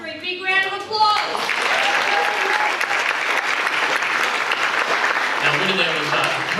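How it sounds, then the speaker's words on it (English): A crowd bursts into loud, sustained applause for the top three finishers of a Rubik's Cube solving challenge, following a brief spoken announcement at the start, with a voice returning faintly near the end. "Big round of applause."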